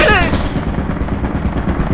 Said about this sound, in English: There's a turret up here.